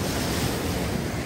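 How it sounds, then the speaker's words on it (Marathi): Sea waves surge at a high-tide beach in coastal Konkan near Malvan, a dense continuous wash of surf mixed with wind noise. It is loud and steady throughout the short stretch, with no voices. "पाहू शकता कसं सुंदर असे आवाज येत आहे लाटेचे"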